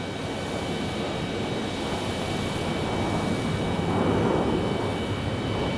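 A Southwest Airlines Boeing 737 Max 8 at Phoenix Sky Harbor airport produces a steady, broad jet engine roar that swells slightly toward the end, heard at a distance with no talk.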